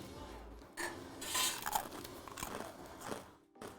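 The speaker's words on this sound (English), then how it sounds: "I'm also gonna test a crouton." Someone bites and chews a crunchy crouton up close, a few brittle crunches and scraping clicks with short pauses, no talking.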